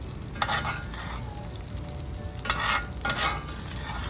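Beef tenderloin fries in a cast iron pan inside an RV, a steady close sizzle broken by several louder bursts of spitting and scraping as the meat is moved.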